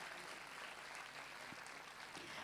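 An audience claps for the children at a kids camp annual day, a faint, steady patter of applause heard from a distance for a few seconds.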